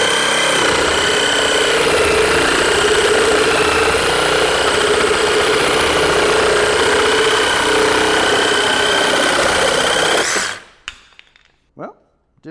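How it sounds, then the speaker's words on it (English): A Ryobi reciprocating saw with a demolition blade runs hard through a cut, a loud, close, steady buzzing roar for about ten seconds that stops abruptly, followed by a few faint clicks and knocks. "That 7/8 of an inch stroke length really does help clear out the chips in a cut like this."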